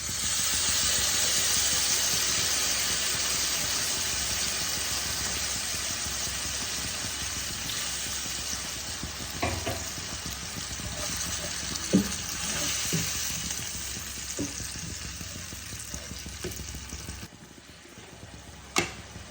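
Onions fry in a pan as spice paste goes in for Bengali-style kala chana ghugni, a loud steady sizzle that eases off over time, with a few stirring knocks and clinks near the end.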